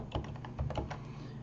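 Brief run of computer keyboard typing while Kotlin Android code is written, a handful of soft, close keystrokes in a quick cluster with no voices.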